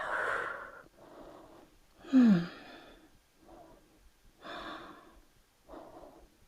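Slow, audible breaths in and out during a beginner yoga-style leg and thigh workout, several paced inhales and exhales with a louder sighing breath near the middle, close and alone.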